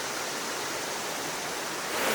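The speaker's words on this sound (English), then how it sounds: "there is a creek" A creek beside a river on a Georgia backcountry trail keeps up a steady, close, broadband rush of flowing water, alone and unbroken, swelling slightly louder at the very end.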